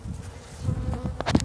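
Honey bees buzzing up close around a hive with queens, a dense, steady hum of many wings with a few louder passes near the end.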